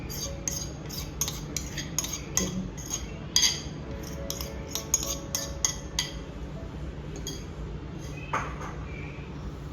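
A metal utensil clinks and scrapes on a steel plate as it is coated with oil and chana batter is added, in a rapid run of light taps followed by a few scattered knocks, close and alone.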